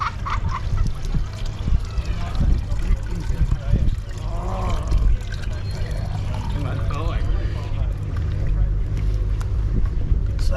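Water pouring and splashing into a container nearby, a steady gurgling fill with honking birds and voices in the background, outdoors at a riverside festival.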